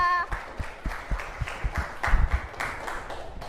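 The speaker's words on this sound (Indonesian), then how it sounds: "tepuk tangan untuk kita semua" A morning classroom full of students clapping together: a ragged run of hand claps, fairly close, with scattered voices mixed in and a loud burst midway.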